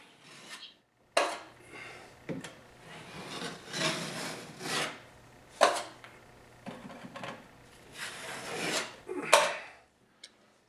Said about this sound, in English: I put some pressure on that knife, enough to smoothen the corner bead